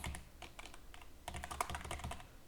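Someone types text on a computer keyboard and then presses the enter key. Quick, close key clicks come in short bursts with brief pauses, and a denser run of keystrokes follows in the second half.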